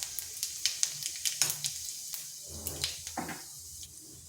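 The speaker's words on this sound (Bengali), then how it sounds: "ওই তেলের মধ্যে আরেক চামচ তেল দিয়েছি। এরপর দিয়ে দিচ্ছি গোটা জিরা" Whole cumin seeds sizzling in hot oil in a pan while cooking a gathi kochu dish, with sharp crackles and pops over a steady hiss that tapers toward the end.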